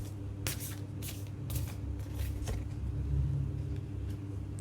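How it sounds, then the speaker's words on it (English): Oracle cards being shuffled close up in a few quick riffling bursts, followed by softer handling over a low rumbling background. "So let's pull some oracle cards for you."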